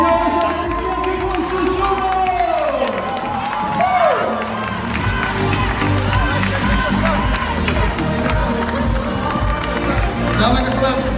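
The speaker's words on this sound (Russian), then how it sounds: "Дамы и господа, аплодисменты!" A shopping-mall crowd cheers, shouts and applauds after a marriage proposal, a loud, dense wash of voices and clapping that holds steady throughout.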